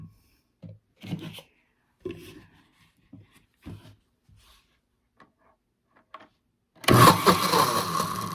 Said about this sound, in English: I have to cut up the butter a little bit so my blender will cut it better